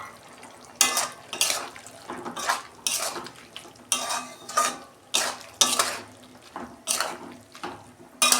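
Bottle gourd and prawns are stirred in an uncovered pot, with a utensil scraping and clattering against the metal in repeated bursts about every half second, wet and close, with no voices.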